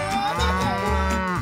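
A cow on a farm gives a single loud, sustained low moo that lasts the whole moment, close by and alone.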